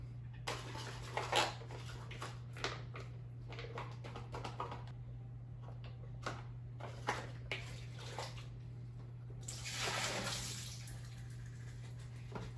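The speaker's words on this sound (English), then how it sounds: "we'll take the water, which is sitting at about 160, hopefully a little cooler by now. Let's pour some of that in there." Hot water at about 160 degrees poured over malt while brewing an IPA: quiet splashing and trickling in short pours, a longer gush near the end, over a steady low hum, no voices.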